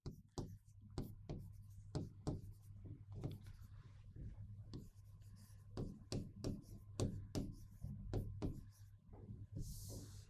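Pen or marker writing by hand on paper or a board during a biology lesson, with quick scratchy strokes and taps in an irregular rhythm, close and quiet, with a faint low hum underneath.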